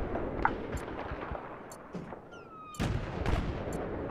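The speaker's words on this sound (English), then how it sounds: "Tank's firing at me." Heavy tank cannon fire and gunfire in a Battlefield 3 battle, a dense, loud, rumbling barrage that dips briefly before a sharp close blast and continued booming, with a faint whistle cutting through.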